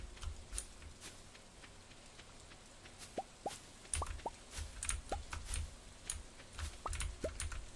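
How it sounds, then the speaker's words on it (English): Clicky computer keyboard keys being typed close up in irregular bursts of sharp clicks, with no talking. "Is that clicking annoying?"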